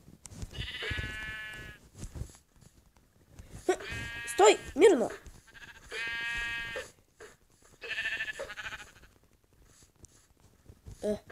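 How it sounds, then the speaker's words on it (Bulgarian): Sheep bleat repeatedly in the video game Minecraft, several spaced calls in a row, with someone talking between and over them. "Как се предърпва овца към теб, когато бяга?"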